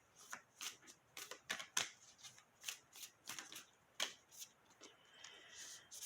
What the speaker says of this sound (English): we're going to pull a few more cards here and see what the story is